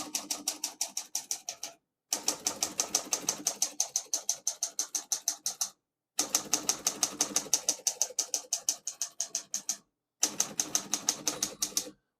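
Rapid, steady keystrokes clatter on a 1940 Corona Standard portable typewriter, close and crisp, in four bursts of typing separated by brief pauses, with no voices.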